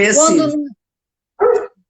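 A dog barks indoors at home, two short loud yelps separated by a brief silence, close and clear.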